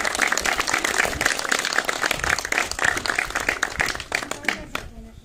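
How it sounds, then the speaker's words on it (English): Outdoor crowd applause follows the firing of a cannon at Elizabeth Castle in Jersey, with dense clapping sustained for about four seconds before thinning out, mixed with some voices. "Wormer, Gunner Jack, big round of applause"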